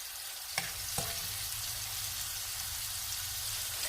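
Shrimp fry in a pan over a medium-high gas flame, a steady soft sizzle with two brief clicks or taps early on, fairly quiet throughout.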